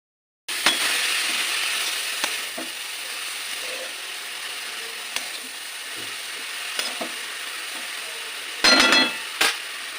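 Finely shredded cabbage and carrots sizzle in a hot pan, a steady close frying hiss that starts abruptly, with scattered clicks and scrapes from stirring and a louder burst of scraping near the end.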